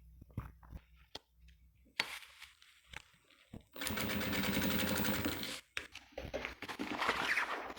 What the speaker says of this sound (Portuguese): vou passar uma costura pé de máquina aqui, juntando essas 3 partes aqui